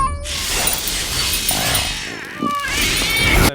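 A cat meows and yowls in an action movie scene, sharp high cries standing out over a busy soundtrack of music and effects, with a brief crash-like burst near the end.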